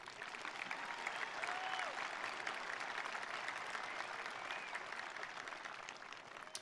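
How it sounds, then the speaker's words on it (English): A high school commencement audience applauds the faculty, sustained even clapping from a large crowd heard at a distance, fairly quiet and continuous, with a faint tonal whistle or cheer rising briefly above it. "let's please give them a very appropriate applause"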